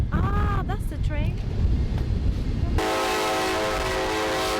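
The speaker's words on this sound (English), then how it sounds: "Ah, that's the train." A passing train sounds its horn in New Orleans, with tonal blasts over a low rumble of rail noise, near and loud. Voices talk over the start, then a steady, droning tone takes over.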